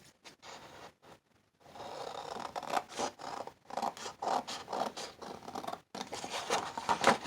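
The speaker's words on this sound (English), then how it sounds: "I'm going to flip it over and then cut around the edge." Scissors snip and scratch through paper cutting around a page edge, in short irregular crisp bursts separated by brief pauses, close and fairly quiet.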